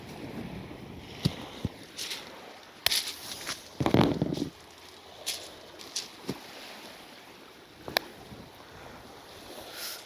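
Wind gusting on the Isle of Wight coast during sea fishing for bass, a steady rushing bed with scattered sharp knocks and rattles, one louder gust burst midway, close and fairly quiet with no talking.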